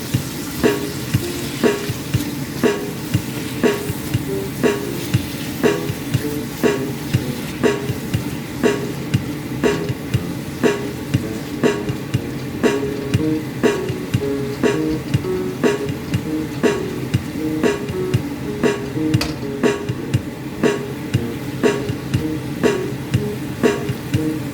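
Bihon rice noodles being stirred for pancit in a hot pan, a steady sizzle broken by regular scraping strokes of the spatula, loud and close, with no voices.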